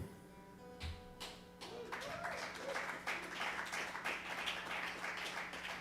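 Applause spreads through an audience at a live music show at The Grey Eagle. It begins with a few scattered claps and swells into sustained, dense clapping from the crowd, with faint voices mixed in.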